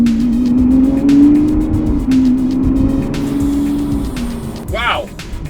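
A Lamborghini Aventador SVJ with a manual gearbox drives along, its engine a steady loud drone that rises and shifts in pitch, heard from inside under people talking.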